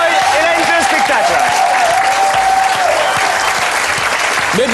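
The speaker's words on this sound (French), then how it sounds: "Mais bien sûr que je les applaudis, les agités." A studio audience applauds the performers of a comedy show with loud, continuous clapping and cheering, while voices talk over the applause.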